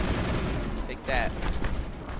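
Enemy gunfire in the Mass Effect video game, a loud continuous rattle of shots and bursts filling the whole moment, with a brief sharper flurry midway.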